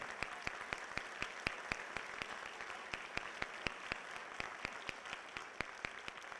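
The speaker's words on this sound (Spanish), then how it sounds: "Recibamos con un fuerte aplauso" Audience at a municipal administrative justice forum gives applause, heard as a quiet, distant, steady rhythm of distinct claps, fairly slow and even, in a large room.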